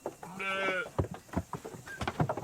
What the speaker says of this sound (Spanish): Dominar el entusiasmo de las ovejas de los Cárpatos, una raza antigua y vigorosa, requiere un gran esfuerzo físico.